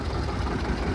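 Antique John Deere Model B tractor running at a steam-era show, a low, rumbling engine chug heard up close for under a second.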